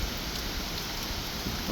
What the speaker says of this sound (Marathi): तो पावस ज्या पृष्ठभागाचेर पडटा तसो ताजो आवाज येता. आमकां दिसता तो पावसाचो आवाज म्हणून.